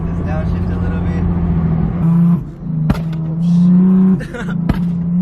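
A bagged Honda Civic with air suspension, its engine droning loudly then dipping and surging twice as it downshifts and revs, close by, with voices talking over it.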